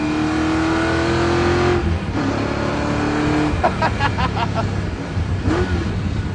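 An old, worn Mazda RX-7 revs hard and close, its engine note climbing in pitch across several surges with short breaks between gears, then settling into a rougher, uneven growl.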